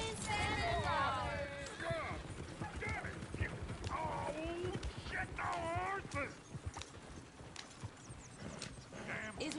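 Horse hooves clip-clop steadily in Red Dead Redemption 2, with a horse whinnying and snorting close by, under ongoing conversation between characters.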